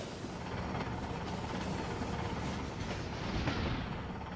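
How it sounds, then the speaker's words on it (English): Tram rolling along in the Cities In Motion 2 city-building game, a steady rumbling clatter of wheels on rails with faint clicks, continuous and moderately loud with no talking. "Okay, so there we go. My first tram."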